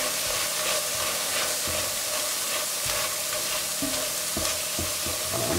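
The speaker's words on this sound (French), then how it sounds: "Pendant la cuisson des crevettes, on fait bien attention aux oignons." Shrimp cooking with onions in a pan sizzle with a constant close hiss, and soft scraping stirs and clicks of a utensil are heard at intervals, with no voices.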